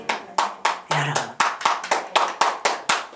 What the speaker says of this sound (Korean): 우리 하나님께 박수합시다.